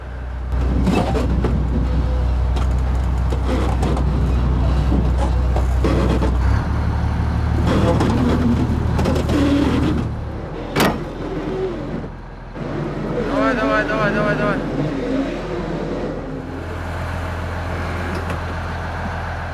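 A heavy bulldozer is loaded onto a truck on a Siberian ice road: loud, close diesel rumble from big vehicles, with a sharp air-brake-like hiss partway through, and shifting engine tones afterward.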